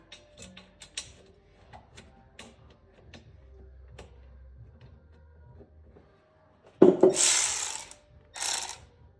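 Hand ratchet tightening 12mm bolts on the front wheel of a 2003 Yamaha Blaster ATV during a wheel bearing job: a series of quiet, close clicking pawl ticks, followed by a couple of louder rasping bursts near the end.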